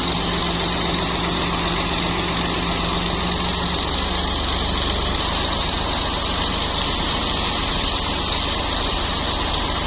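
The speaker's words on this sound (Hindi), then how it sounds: "डंपर जो है ना रेत का आ चुका है" A dump truck loaded with sand idles nearby, its engine giving a steady, loud diesel rumble with a constant knocking throb throughout, no talk over it.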